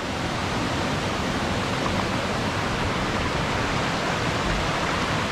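A steady, dense roar of falling water fills the whole clip, broad and constant with no pauses, from the nearby Jumog waterfall in Karanganyar.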